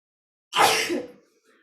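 A single short, forceful sneeze bursts out of silence and fades quickly.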